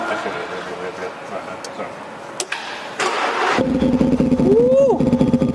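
A Land Rover Defender 110 fitted with a V8 QuickSilver exhaust sound generator starts up and settles into a deep rumbling idle, then rises in a short rev, with people talking nearby throughout.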